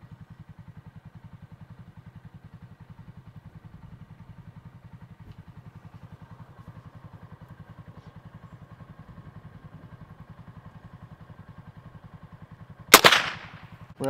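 A single loud gunshot cracks out near a pond after a long stretch of steady, rhythmic engine idling, with a smaller sharp report following right at the end.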